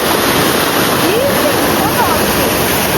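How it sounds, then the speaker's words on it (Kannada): Loud, constant roar of rushing river water fills the clip, a dense unbroken wash with faint voices barely audible beneath it. "ಇಲ್ಲಿ ನೋಡು, ತುಂಬಾ ನೀರು ಬರ್ತಾ ಇದೆ."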